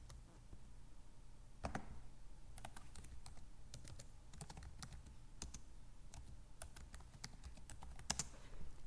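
Keys clatter on a computer keyboard in quiet, close bursts of typing with short pauses, going on steadily throughout.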